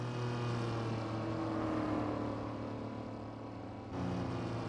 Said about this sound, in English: that is a wonderful noise from the Esprit though